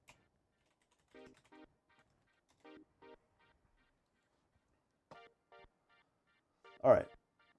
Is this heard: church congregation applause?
no